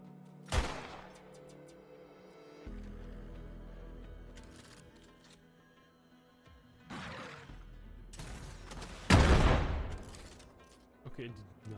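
A weak pistol fired in Borderlands 3: a few sharp, separated gunshot cracks at irregular intervals, the loudest near the end, set among game sounds with a player talking.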